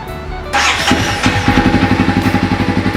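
A dirt bike engine sputters, catches and starts, then settles into a loud, rhythmic idle close by.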